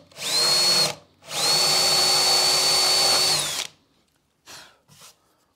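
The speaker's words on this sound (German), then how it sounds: "Und zwar bohren wir halt so circa 5-6 mm rein, dass wir unten noch den Boden drin haben." A power drill bores a shallow hole into a wooden bowl blank in two loud, sustained bursts with a steady whine, followed by two short quieter spin-ups; nobody talks.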